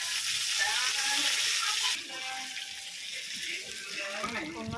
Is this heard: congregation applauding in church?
no